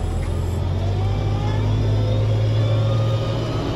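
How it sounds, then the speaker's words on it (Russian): A Terex backhoe loader's diesel engine rumbles steadily while clearing snow, a close, continuous low drone with a strong fixed hum and slight rises in revs throughout. "Экскаватор не очень хочет останавливаться."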